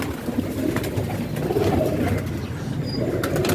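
A pair of pigeons coos softly and repeatedly near their nest of eggs, with low murmuring calls close by and faint rustling.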